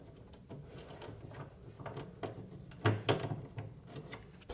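Two bolts being removed from the monitor shelf of a Williams Joust arcade cabinet during teardown, a series of close, dry metallic ticks and ratcheting clicks, faint at first and then a louder clatter of handling near the end.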